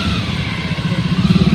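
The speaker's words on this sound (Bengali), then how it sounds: "বাইকের আওয়াজ।" A motorcycle engine runs nearby with a low throbbing rumble that grows into a steady pulsing chug toward the end, fairly loud and with no one talking.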